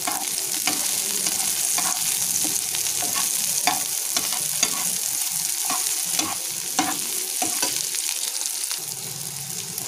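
Chopped onion fries in a little oil in a pan, giving a steady close sizzle broken by repeated scraping and clinking stirs, with no talking.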